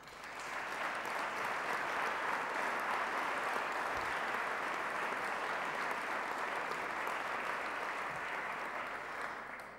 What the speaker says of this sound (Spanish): para Nuria, nuestro más caluroso aplauso